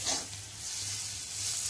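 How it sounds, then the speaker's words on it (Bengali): Spice paste frying in a pan while being stirred, for a Bombay duck (lote fish) dish, with a steady soft sizzle and a low hum underneath, close by and alone. "তো চলো একটু ভালো করে আমি নেড়ে নিই"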